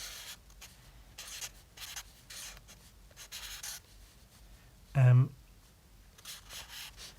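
A pen scratches across paper in short, rhythmic bursts of strokes while a goblin face is drawn, close and quiet, with one brief louder thump partway through.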